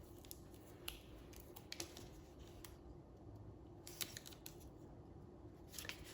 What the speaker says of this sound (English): some more tape right here, and then I'll snip that off